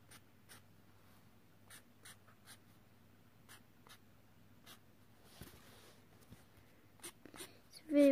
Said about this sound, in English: So really what I'm doing is just putting lines.